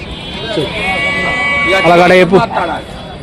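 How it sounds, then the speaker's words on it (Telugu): Goats bleating at a village animal market in Rajarampalli, a few wavering cries close by, heard beneath people talking. "ఈ ఉండేది మేకలు"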